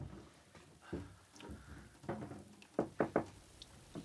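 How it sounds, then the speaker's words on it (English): Rain patters steadily on a roof, with scattered louder taps and knocks of drips landing close by. "And now it's raining again."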